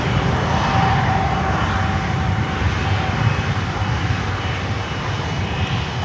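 An airplane rolls on the runway at Miami airport, with a loud, steady engine roar close by that fades slightly toward the end. No voices.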